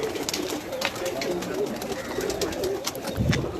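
Teddy and Magar pigeons coo softly at close range at a farm house near Islamabad, with low throaty murmurs over a faint background hum.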